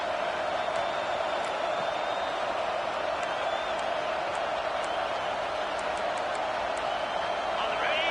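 Loud, steady stadium crowd roar at a football game on a fourth-down play, a continuous wash of noise with scattered whistles and whoops running the whole time, with no clear talk over it.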